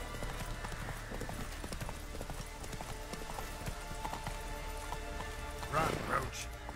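A horse gallops in the Fortnite video game, with rapid, steady hoofbeats running throughout and a brief whinny near the end, while a player talks over it.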